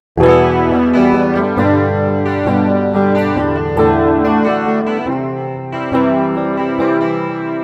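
Clean electric guitar through a humbucker pickup on a Donner Hush X headless travel guitar, playing chords and single notes, warm and full, with a light shimmering chorus and slight echo on the sustained notes.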